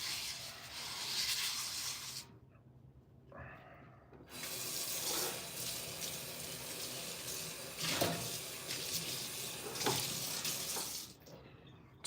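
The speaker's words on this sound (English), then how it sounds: "So, just getting my cast iron cleaned." Water runs from a tap while a cast iron pan is scrubbed with kosher salt, a hissing flow with gritty rubbing that stops and starts in bursts, close and fairly steady.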